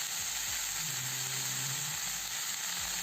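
Cauliflower, peeled chopped potato and shelled green peas sizzle loudly and continuously in a hot pan, a close, even frying hiss with faint stirring.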